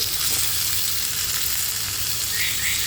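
Tomatoes, cashews and melon seeds hit a hot frying pan, setting off a loud, even sizzle that holds steady through the moment, with no voice.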